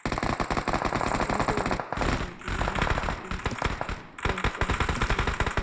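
Rapid automatic gunfire from PUBG Mobile, played as dense loud bursts of rattling shots with short pauses in between and no talking.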